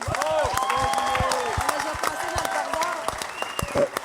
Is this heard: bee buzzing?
no